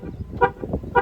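Two short horn chirps from a Mahindra Scorpio-N as it locks, sharp and close, about half a second apart over a low background rumble.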